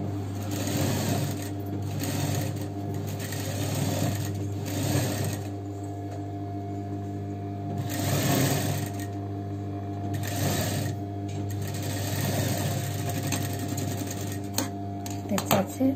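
An electric sewing machine runs steadily while stitching a folded fabric seam on a child's balloon frock, its motor hum continuing throughout with brief speed surges, close and fairly loud, as someone talks over it.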